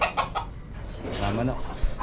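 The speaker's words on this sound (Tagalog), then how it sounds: "May alagang pabo." A turkey clucks and gobbles nearby over a busy background of rustle and low noise, with a few sharp calls near the start.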